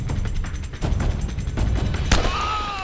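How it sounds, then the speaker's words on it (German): Gunfire in the video game Uncharted: Drake's Fortune: a few sharp, loud shots spaced irregularly over a steady rumbling game backdrop, the last one followed by a thin whistling tone. "Hui, ein Schuss."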